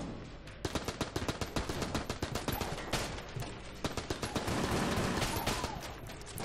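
Rapid, dense gunfire from the video game Enter the Gungeon, with a long run of sharp, loud shots in close succession and occasional heavier bursts, alone without talk.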